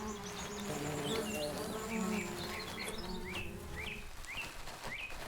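Bees buzz continuously around a hive or flowers in the wild, a steady close drone with birdsong chirping over it.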